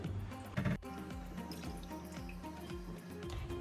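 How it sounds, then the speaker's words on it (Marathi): Raw homemade butter is washed in water, heard as short soft splashes and sloshing with a faint trickle, close and quiet. "मी आता ही लोणी ह्या पाण्यातनं काढून घेईल आणि छानपैकी दोन ते तीन पाण्याने वॉश करेल"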